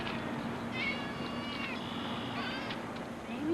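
A cat gives several drawn-out, wavering meows over a steady background hum, the calls close and moderately loud, with no one speaking.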